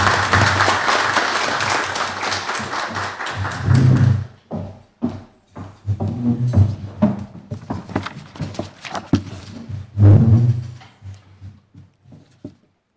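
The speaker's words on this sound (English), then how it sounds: "Can you give her a round of applause?" Audience applause at a graduation ceremony, loud sustained clapping for about four seconds that breaks off into a few scattered claps and thumps, with faint talk afterward.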